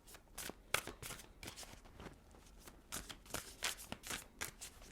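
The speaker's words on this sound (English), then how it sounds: "Let's shuffle Libra." Tarot cards being shuffled by hand in quick, irregular riffling bursts, close and fairly quiet, with no speech over them.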